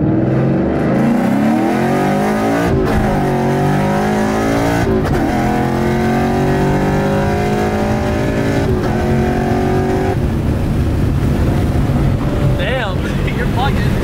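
A Mustang fitted with a Paxton Novi 2200 SL supercharger accelerates hard on a test pull, its engine note and supercharger whine climbing loudly through the gears, with wind buffeting throughout.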